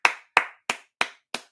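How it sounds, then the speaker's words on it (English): Five sharp, evenly spaced hand claps from one person, close and dry, with silence between them. "A round of applause for everybody."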